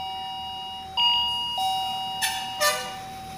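A remote wireless calling bell chiming after a switch press, a sequence of bright electronic ding-dong tones stepping through a short melody, clear and close with no talk.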